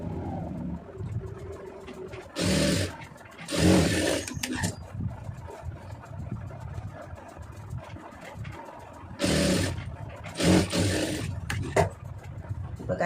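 A sewing machine stitches the shoulder seam of a blouse in two short runs of whirring, each a few seconds long, separated by quieter handling sounds nearby.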